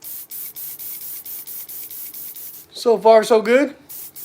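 Compressed air hisses through an airbrush at about 25 PSI in repeated short pulsed bursts, close and steady, before someone speaks briefly over it.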